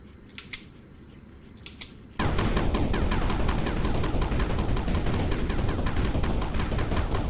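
Rapid-fire shooting in the game Sandustry, a fast steady stream of sharp clicking shots that starts abruptly after two brief earlier snaps and runs loud and continuous to the end, with no voice.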